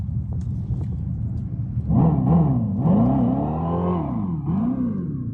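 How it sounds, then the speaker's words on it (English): An engine rumbles low, then revs up several times in rising and falling sweeps, loud and close, each rev swelling and dropping back. "Rev it up, Jeffrey."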